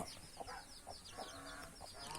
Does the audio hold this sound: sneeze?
no